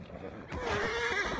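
A horse in Assassin's Creed Valhalla lets out a loud, drawn-out neigh that swells in partway through and holds to the end over faint background game noise.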